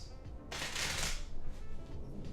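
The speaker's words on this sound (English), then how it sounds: "I just wanted to show that they genuinely did good shuffle face up and face down." A deck of playing cards mixed face up and face down, riffled in one brisk, close burst of rapid flutter lasting under a second, with quieter handling before and after.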